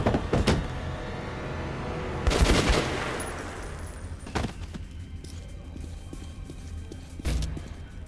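Gunfire in the video game Metro 2033 Redux: several sharp, reverberant shots burst out at intervals over a low underground ambience, the loudest a cluster in the middle, with no talking.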